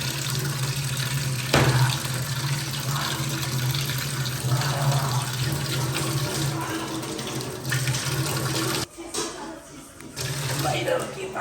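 Water runs steadily from a household tap into a sink, a constant close splashing rush that breaks off briefly near the end and resumes, with a low hum beneath and no talk.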